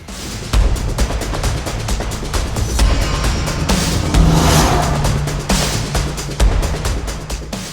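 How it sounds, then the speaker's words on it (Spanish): Vehicles roar past on a desert road in Chile one after another, loud engine and tire noise rising and fading, with sharp knocks mixed in. "Encima vienen cantidad de vehículos, cantidad."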